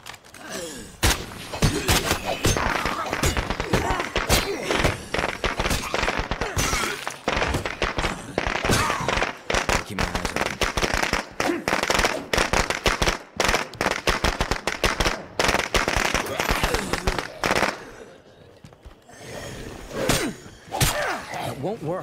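Explosive detonation in the State of Decay 2 video game, heard as a dense barrage of loud, sharp blasts and crackling bursts filling the scene, with a brief lull near the end before more impacts, and voices talking over it.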